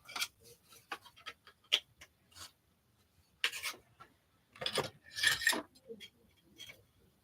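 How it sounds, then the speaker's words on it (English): A Dremel scores the edge of a carbon fiber part in bursts. Short scratchy rasps come first, then longer grinding passes, close and fairly quiet, with gaps between strokes. "I'm gonna take my Dremel and kind of just score the edge of gluing on, just to give it some more tooth"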